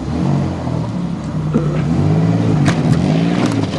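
A car engine revving while the vehicle backs up, with a close, loud, wavering low drone that rises and falls in pitch over a few seconds.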